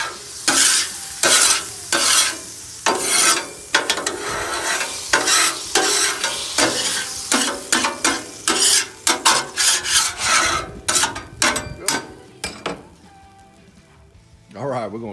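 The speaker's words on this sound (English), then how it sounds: "we're gonna come through with our scraper. Kind of clean the grill." Metal scraper dragged across a 22-inch Blackstone griddle, a run of rhythmic rasping strokes, loud and close, growing quicker near the end before trailing off.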